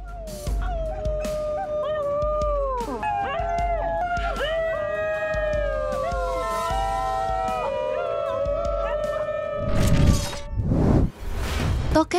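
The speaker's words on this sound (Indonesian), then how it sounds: "Anjing ini dikenal karena suaranya yang harmonis, mirip dengan panggilan paus bungkuk." New Guinea highland wild dogs, the singing dogs of Indonesia's highlands, howl in long harmonious overlapping wails that slide up and down in pitch for about ten seconds, followed by a few louder rough bursts near the end.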